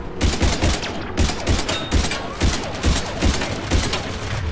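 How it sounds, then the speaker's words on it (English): Turret firing in the video game Mass Effect 3, rapid rhythmic bursts of heavy gunfire, about two shots per second, loud and close, continuing without a break. "Oh, it's a turret."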